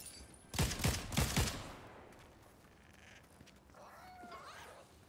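Several sharp gunshots fire in quick succession, loud and close, followed by a quieter stretch of background noise with a faint whistling tone near the end.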